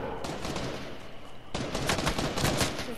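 Rapid bursts of shotgun gunfire in the Fortnite video game, loud, close and repeated, with the heaviest volley in the second half.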